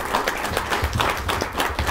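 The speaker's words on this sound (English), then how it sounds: "let's have a big round of applause for these guys" A conference audience applauds a panel on new tools of the trade at PG Connects Bangalore, producing a dense, steady wash of many clapping hands that fills the room evenly, with no talk over it.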